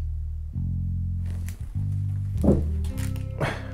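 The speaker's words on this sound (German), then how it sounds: "der Stuhl, der ist laut, wenn man sich hoch und runter setzt" A chair creaks and groans as someone sits down and gets up, giving a few long, loud, squeaky strains separated by short pauses and softer rustling movements.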